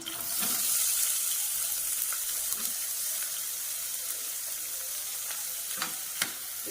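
Onions sizzling in hot oil with spices for a green peas mutton keema curry, a steady soft frying hiss with occasional stirring scrapes, fairly quiet and close, no voices.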